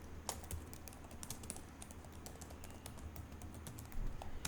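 Steady keyboard typing as a title is entered in PowerPoint, a quick run of soft, close key clicks continuing throughout without a voice.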